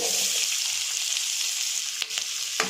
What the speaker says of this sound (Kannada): ಈಗ ಮೂರು ಈರುಳ್ಳಿನ ಉದ್ದುದ್ದಕ್ಕೂ ಹೆಚ್ಚಿ ಹಾಕ್ತಾಯಿದ್ದೀನಿ